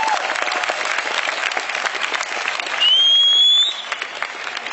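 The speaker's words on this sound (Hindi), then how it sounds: "एक बार जोरदार तालियां बजा दीजिए।" Loud, dense applause from a live audience at a comedy poetry recital at IIT Kharagpur, sustained evenly and heard alone, with a brief whistle-like tone partway through.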